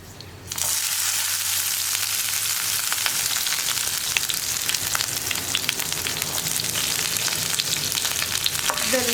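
Fenugreek seeds, dried red chillies, chopped ginger and garlic sizzling hard in hot oil for a tomato fry, a loud continuous crackle with stirring scrapes, close and alone.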